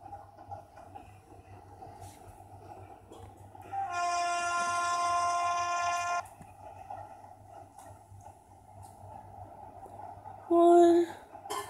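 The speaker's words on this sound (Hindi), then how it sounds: "हमारी ट्रेन जो है वो जा रही है टूवर्ड्स दिल्ली स्टेशन।" The Kota Jan Shatabdi Express runs toward New Delhi with a steady rumbling roll heard from aboard, a long horn blast sounding in the middle and a shorter loud blast near the end.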